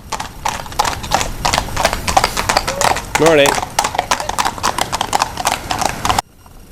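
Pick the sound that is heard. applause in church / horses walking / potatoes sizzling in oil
horses walking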